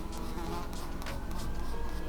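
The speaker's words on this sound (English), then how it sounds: "I wonder if there's a bee in here right now." A steady, close insect buzz, like a bee, droning continuously through the clip, with a few faint clicks and scratches over it.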